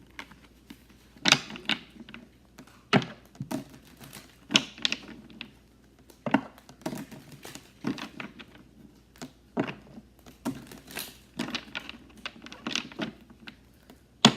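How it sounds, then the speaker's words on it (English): Tarot cards are shuffled by hand in a series of brief riffling bursts and soft taps, separated by quiet pauses, close and fairly faint. "so I'm going to shuffle your card 7 times."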